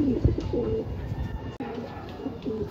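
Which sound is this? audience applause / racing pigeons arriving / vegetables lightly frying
racing pigeons arriving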